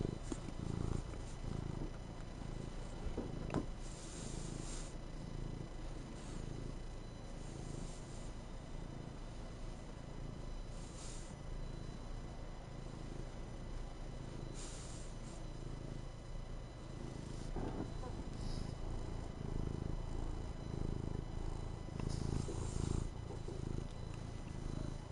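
A cat purrs close up in a continuous, soft, low rumble that rises and falls steadily with its breathing and goes on for a long stretch without voices.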